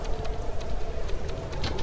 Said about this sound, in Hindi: ये तो कितनी जोर की बारिश होने लगी